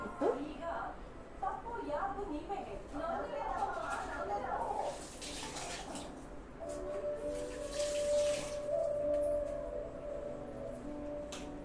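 Water runs from a kitchen tap during preparation of okra bondas in a home kitchen, a steady rushing splash under ongoing talk, with a tonal whine and clinks of utensils partway through.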